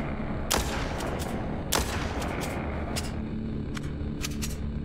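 A couple of sharp video-game gunshots in Walking Zombie 2 cut through a steady wash of background noise, followed by fainter, quicker shot-like cracks, all without talking.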